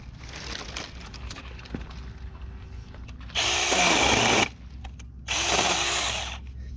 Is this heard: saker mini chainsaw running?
yes